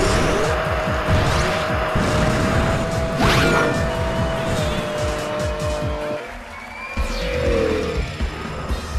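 Racing car engines in Sonic & Sega All Stars Racing, with loud, continuous revving and whooshing engines, tire squeals and skids as karts race, plus a voice speaking over the action.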